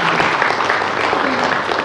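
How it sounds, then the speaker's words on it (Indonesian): A television studio audience on an Indonesian talk show breaks into loud, dense applause that holds steady and unbroken for under two seconds. "aplaus dulu untuk Tata Janeta"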